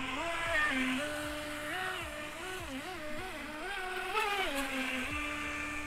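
The small motor of an Eachine EBT05 RC speed boat whines steadily, its pitch rising and dipping repeatedly as it revs, with a faint rumble underneath.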